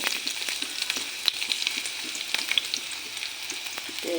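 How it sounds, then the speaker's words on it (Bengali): Onion and whole cumin seeds frying in hot oil on a gas stove, a soft steady sizzle with small crackles and pops throughout, at moderate level with no talking. "আমার তেলটা গরম হয়ে গেছে গ্যাসটা বাড়িয়ে দেব পেঁয়াজ আর গোটা জিরা দিয়ে দেবো"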